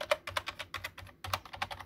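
Keystrokes on the F-key row of a Cooler Master Devastator 3 membrane keyboard, a steady run of close, crisp clacks in quick groups with a short pause midway.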